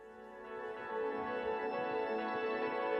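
Layered atmospheric guitars swell softly under an indie pop rock song, making a sustained, shimmering wash that builds gently in loudness with no voices.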